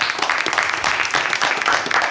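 Loud, dense audience applause fills a French game show studio as a guest is welcomed, a thick continuous roar of clapping throughout.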